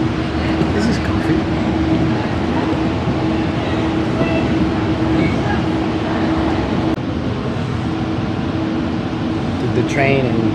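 Steady rumble and hum inside a moving Tri-Rail commuter train carriage in Florida, with constant rolling noise and air conditioning drone, a voice speaking over it.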